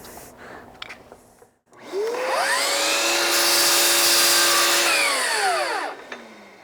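A miter saw spins up, cuts through a wood piece set against a stop, and winds down, a loud rising whine holding steady for several seconds before fading, heard alone.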